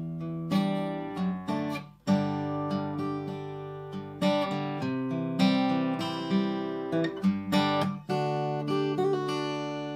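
Acoustic guitar picked fingerstyle, chords ringing out one after another in a gentle, steady rhythm, played alone without voices.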